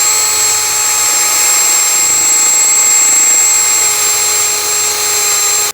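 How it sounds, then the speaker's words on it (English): A wire wheel spins against a rusty ball joint mount on a 2000-2005 Ford Excursion, giving a steady, loud, high-pitched whine with a constant grinding hiss that holds unbroken for several seconds before cutting off abruptly. "Use a wire wheel."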